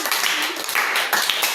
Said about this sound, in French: Quand il monte, vous acclamez encore très fort.